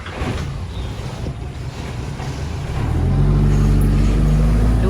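A father's car pulls up outdoors, its low engine hum rising out of steady wind noise in the final seconds and growing louder as it nears.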